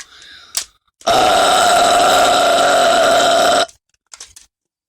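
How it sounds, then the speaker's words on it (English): A long, loud, sustained burp in a playful burping contest, one continuous rasping belch lasting over two seconds, close and alone, framed by brief short sounds before and after. "I have the best burp. It's better than all of your burps."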